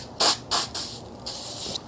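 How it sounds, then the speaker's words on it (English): Pre-dip cleaner from a trigger bottle is sprayed onto a microfiber towel while prepping 4Runner wheels, with three or four sharp, close hissing bursts separated by short pauses. "It will spray it on the microfiber towel."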